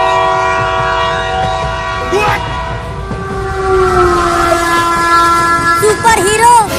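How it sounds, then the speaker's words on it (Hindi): A cartoon train approaches with a loud, sustained horn blast over a steady rumbling and rolling, the horn tone bending as it nears. "उधर से एक और ट्रेन आ रही है"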